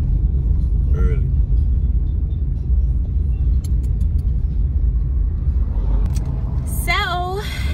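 Car traffic on a road in the morning, a loud continuous rumble of passing vehicles close by, with a brief high squeal near the end.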